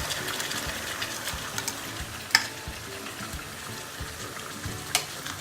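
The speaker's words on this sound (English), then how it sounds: "So now I've left the chicken for a minute's time to cook" Chicken pieces frying in a pan for biryani, a steady soft sizzle with occasional crackles and a couple of sharp pops, close and fairly quiet, with no talking.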